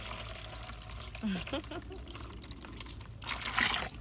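Water pours and trickles into a heavy hydroponics container for tomato growing, with splashy bursts that swell toward the end, close up and clearly heard.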